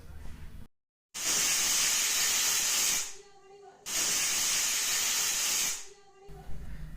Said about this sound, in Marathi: कुकरचं झाकण लावून आपल्याला याचे सात ते आठ शिट्ट्या करून घ्यायचे आहेत